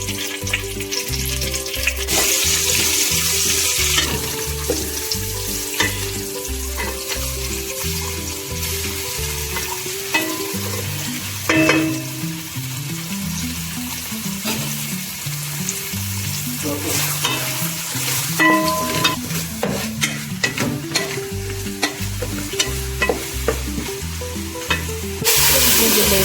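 Curry leaves and masala fry in hot oil for vegetable pulao, giving a loud, constant sizzle. A spoon scrapes and clatters in the pan in repeated strokes, and no one speaks.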